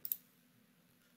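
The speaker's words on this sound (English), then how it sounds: "So if you click new file" A computer mouse gives a quick double click, two small sharp ticks right at the start, followed by a faint low room hum.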